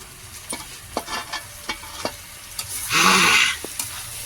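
Chicken kabiraji frying in a pan over a wood fire, a close steady sizzle broken by quick clinks and scrapes of stirring and a brief louder burst of hissing spatter near the end, with no voice.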